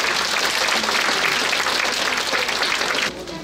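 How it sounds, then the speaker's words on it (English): An audience at a Lunar New Year celebration gives a performance steady, dense applause. Many hands clap together in a sustained wash of sound that fades slightly at the very end. "Let's give them another round of applause."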